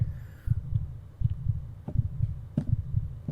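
Heartbeat thumps pulse from a Pokemon haunted-house video game, a steady double-beat rhythm of low, muffled thuds repeating close and alone, with a faint eerie tone at the start.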